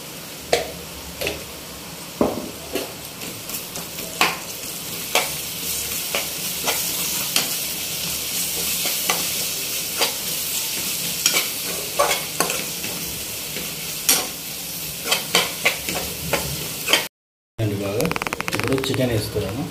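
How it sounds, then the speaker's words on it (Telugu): Ginger paste frying in a pan for chicken fry, a steady close sizzle punctuated by frequent spoon scrapes and clinks, with a voice talking over it and a brief dropout near the end. "ఒక స్పూన్ అల్లం పేస్ట్ వేస్తున్నాను"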